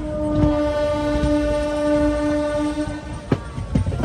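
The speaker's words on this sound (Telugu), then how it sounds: "ఒక్కసారి ఆ ట్రాక్ సౌండ్ కూడా వినండి." Wheels of the Gowtami Express roll along the rails in a steady rumble, with a fading horn tone at first and sharp clacks at rail joints toward the end.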